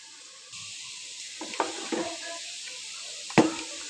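Chicken pieces fry in a pan, a sizzling hiss swelling in after a short quiet start, with scattered stirring scrapes and one sharp clatter of utensil on metal.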